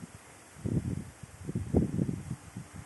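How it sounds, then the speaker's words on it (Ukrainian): Strong wind gusts rumble and thump against the microphone in uneven low bursts, with no talking. "Зараз дуже вітряно."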